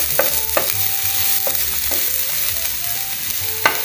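Cumin, cinnamon, cloves, garlic and onions fry in oil for egg fried rice, crackling in a close, loud, continuous sizzle broken by several sharp spatula taps against the pan, with soft music in the background.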